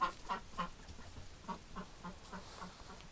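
A duck, recently limping and now walking normally, gives short quacks in a loose rhythm of about half a dozen calls, close and moderate in level over quiet background.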